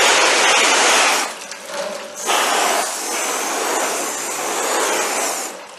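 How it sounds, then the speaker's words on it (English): A garden hose at ordinary pressure sprays water onto a cloth awning, working down from the top: a loud, close, steady hiss that dips briefly and then resumes evenly. "you simply take your ordinary hose pressure, and start at the top."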